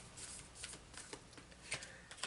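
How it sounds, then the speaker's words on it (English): A tarot card deck is shuffled close up, faint riffling and slapping bursts of cards in an irregular rhythm, with no talking. "so you don't have to listen to me shuffle"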